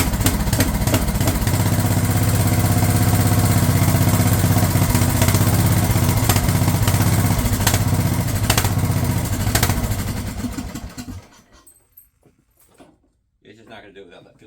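A Craftsman LT1000 riding mower engine runs loud and steady with a rough, clattering drone for about ten seconds, then cuts out, leaving near silence and a brief faint noise at the end.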